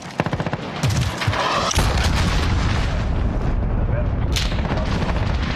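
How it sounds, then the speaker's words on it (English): In Call of Duty Modern Warfare hardcore play, an enemy cruise missile strikes: a rattle of gunfire gives way to a massive, loud explosion with a long rumbling roar, plus a brief radio voice early on. "Enemy cruise missile."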